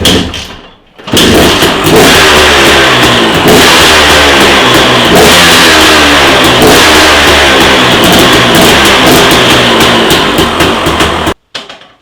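A motorcycle engine revs hard after its leaking carburetor is fixed, a loud continuous roar that rises and holds for about ten seconds before cutting off abruptly.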